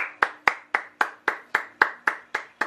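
Single person clapping hands alone, about ten crisp, evenly spaced claps in a steady rhythm, close and clear with a faint background hum.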